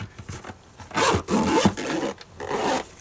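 Zipper on a cable and wire tool kit carrying case being pulled open in several rasping strokes, close and fairly loud, with brief pauses between pulls.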